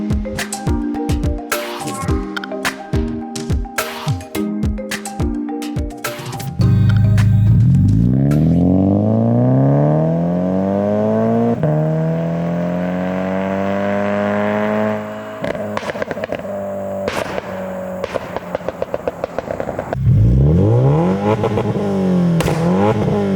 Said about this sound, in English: let's go ahead and take the car for a drive and see how she feels